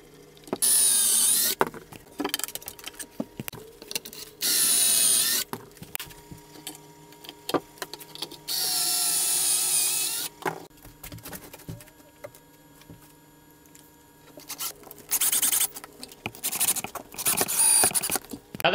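Curved 2x4 and 2x6 wooden boards being joined with pocket hole screws, heard as repeated loud bursts of drilling and driving separated by quiet pauses and light knocks of wood, with no talking.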